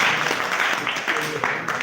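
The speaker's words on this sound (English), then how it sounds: "So you all can clap for yourself and others." Brief scattered clapping from participants at a faith camp gathering, a quick burst of hand claps in an indoor room with some voices mixed in.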